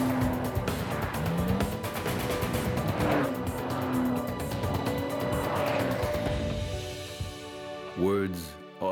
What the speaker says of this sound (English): you can experience the power of a Porsche both on and off the racetrack